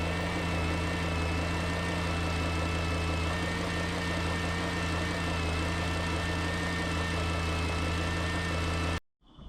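A Maserati GranTurismo engine idles steadily with a light, constant alternator whine riding over the low rumble, close and unbroken until it cuts off abruptly at the end.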